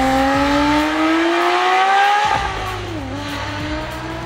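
A Porsche 911 GT3 Speedster flat-six engine revs hard and loud up through the gears from close by, a rising howl with a quick shift and a deep burble as it settles.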